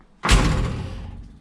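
A car door shuts once with a single close, solid thud that quickly decays into quiet.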